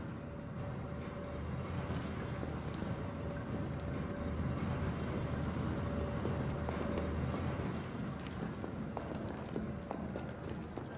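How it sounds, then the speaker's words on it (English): A subway train in Resident Evil 3 Remake pulls away with a steady, loud rumble of wheels and rail clatter that stays dense and continuous throughout, with a faint tonal hum running beneath. "The subway's about to leave."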